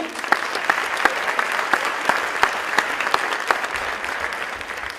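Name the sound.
audience applause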